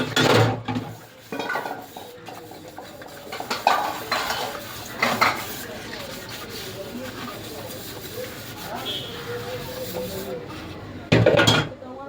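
Dishes, pots and cutlery being washed in a home kitchen during a morning routine, with clinks, scrapes and running-water hiss throughout and a louder clatter near the end.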